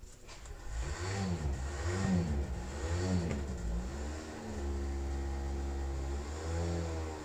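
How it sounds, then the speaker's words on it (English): A motorcycle engine at a club meet runs steadily nearby after being revived following carburettor trouble, with a few revs rising and falling before settling into an even hum; no speech. "The engine sounds nice, I think that's it."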